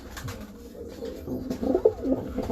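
A pigeon coos close by in low, throaty rolling notes that swell louder toward the end, with no talking.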